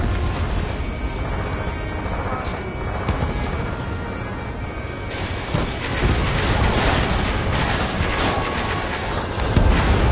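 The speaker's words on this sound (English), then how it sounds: "Locked on. This one's mine. Missile away." Missile launches and explosions in the aerial combat game Ace Combat 7 form a dense, loud rumble of booms and blasts that surges in several waves across the whole stretch.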